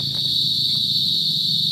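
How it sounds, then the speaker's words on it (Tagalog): A steady, continuous high-pitched chorus of crickets chirping, constant and fairly loud, with faint low rustling underneath and no talking. "ano na yung huni ng mga kuliglig mga kabraso"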